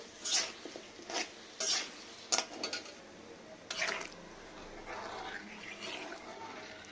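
Onion, ginger and garlic masala is stir-fried in oil in a pan, with several brisk metal scrapes in uneven bursts, then a softer lingering sizzle as the stirring stops.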